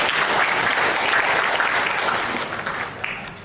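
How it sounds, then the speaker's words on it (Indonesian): An audience at a formal plenary session claps for the governor in steady, full applause that fades slightly toward the end. "Mohon tepuk tangan buat Pak Gubernur."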